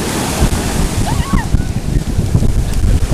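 Ocean surf at a San Diego beach with wind buffeting the microphone, a continuous wash of breaking waves and splashes close by, with a faint high voice briefly heard over it.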